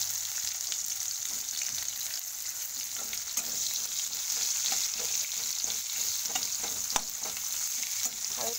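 Chopped onions frying in oil with bay leaf and cumin for a crab curry, a continuous bright sizzle with soft intermittent stirring scrapes, fairly quiet and steady throughout.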